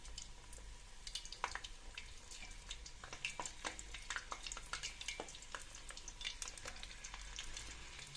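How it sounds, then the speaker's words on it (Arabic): Sliced zucchini frying in well-heated oil, a steady close sizzle with scattered sharp crackles and pops throughout, no voices. "حطينا الزيت وخلينا يحمى منيح. بننزل الكوسة"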